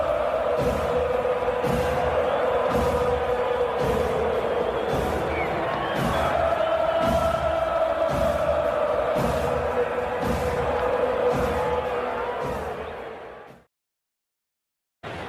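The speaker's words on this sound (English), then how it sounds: "This crowd's back into it now." A baseball stadium crowd cheers and chants during a Braves versus Mets MLB game, with rhythmic claps and thumps repeating about once a second. The roar holds steady for around 13 seconds, then cuts off abruptly into near silence.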